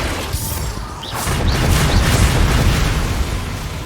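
Bombarda explosion spell in the game Hogwarts Legacy, a heavy booming blast with rumbling crackle that swells and sustains loudly amid duel effects and whooshes.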